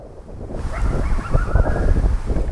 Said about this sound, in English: we got a coyote yipping at us across the creek